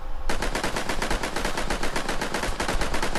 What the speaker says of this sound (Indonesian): Kurang ajar, Pak, dia menembak dari dalam.